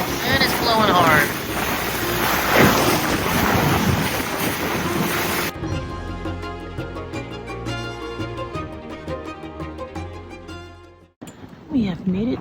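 A sailboat heads dead upwind through a bay entrance in a strong wind, with heavy roaring gusts buffeting the microphone and waves washing against the hull. Partway through, music takes over.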